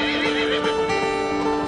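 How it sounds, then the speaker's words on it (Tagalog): Horses neigh and whinny while hooves clop steadily as they hurry toward a parking lot in Padre Garcia, Batangas; the sounds are close, loud and continuous, with no speech. "tila nagkakarera na sa pagpunta sa parking lot ang mga kabayo kasama ang kanilang mga amo"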